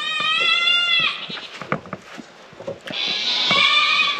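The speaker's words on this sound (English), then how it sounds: "You can hear the goats out there." Goats bleating outside on a homestead, two loud, close, wavering cries, one at the start and one near the end, with scuffling and knocking sounds between them.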